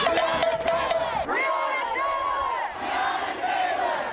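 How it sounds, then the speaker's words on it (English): A protest crowd chants Breonna Taylor's name in unison during overnight demonstrations, a loud, steady wall of massed voices rising and falling in rhythmic waves with no single speaker standing out. "They were rising up and saying her name in protests overnight across the country"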